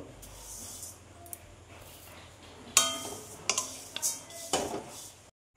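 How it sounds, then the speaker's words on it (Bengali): Flattened rice (chira) is dry-roasted in a pan over low to medium heat, a faint rustle punctuated by several sharp metallic clinks and scrapes of a spatula against the pan, close and without speech. "আবারও এগুলো ভেজে নিব, দিয়ে এগুলো ভেজে নিব"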